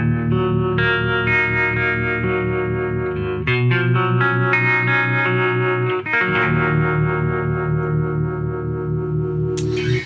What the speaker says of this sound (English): So that's the harmonic trem.